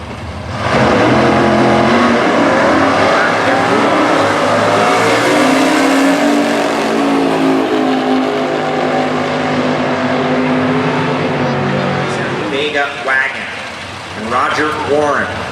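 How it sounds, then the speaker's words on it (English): A 2012 Moss Fabrication Corvette and a 1970 Nova in Super Gas drag racing at Indy: loud, close engine roar sustained for several seconds, then fading as cars pull away while a public-address announcer talks over it. "Ken Mostowich with the 2012 Moss Fabrication Corvette. And Jeff Rudolph, 1970 Nova, sitting up high."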